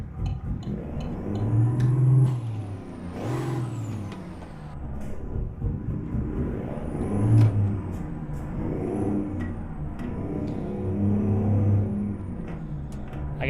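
A truck pulling out onto the road in American Truck Simulator, its engine revving up and easing off in repeated surges as gears change, with air-brake hisses and a whirring drone, and no talk.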